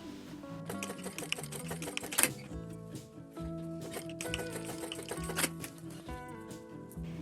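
Sewing machine stitching a gold label onto fabric, its rapid mechanical chatter running in quick bursts with brief pauses, close and fairly quiet.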